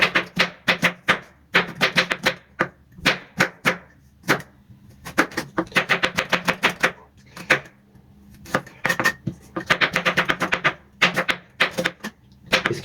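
A knife finely chops a small onion on a board, crisp rapid taps in uneven bursts with short pauses between runs, close and alone without talk.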